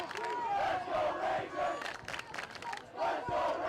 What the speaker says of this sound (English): The crowd comes alive here at Joseph Mewhiney Field